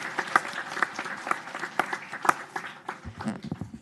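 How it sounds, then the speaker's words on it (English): Round of applause at a Killeen city council meeting, a moderate spread of clapping hands from the chamber with distinct claps standing out, lasting a few seconds before it tapers off. "let's give them all a round of applause"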